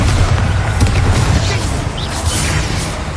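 A booming spell blast from a fantasy-style attack in a video game, a dense rumbling explosion with whooshing debris that fills the scene loudly from start to finish.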